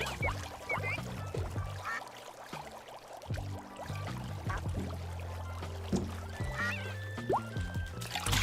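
Cartoonish duck quacks from the PlayStation 3 game Super Rub a Dub pop up repeatedly over a steady bed of game music and splashy water sounds, with bright tonal chirps scattered throughout.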